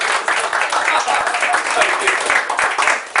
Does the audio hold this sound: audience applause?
yes